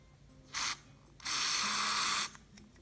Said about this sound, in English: then we're gonna spray it into the cotton ball